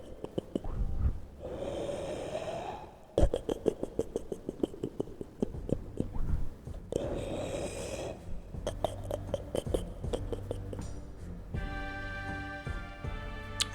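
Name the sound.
voice imitating snoring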